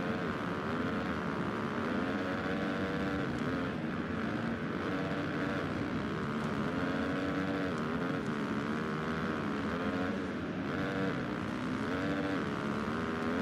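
A motocross bike engine in the MXGP 2019 video game drones continuously, its pitch rising and falling slightly with the throttle, loud and without pauses.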